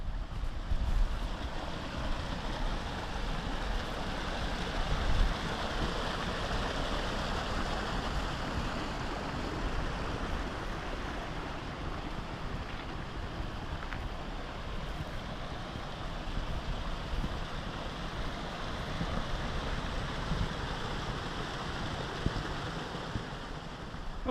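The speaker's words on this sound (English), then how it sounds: "I've spotted a waterfall over here." A waterfall near beaver ponds in a park gives off a steady, broadband rushing roar. The wash of water is dense and continuous from start to end, with no voices.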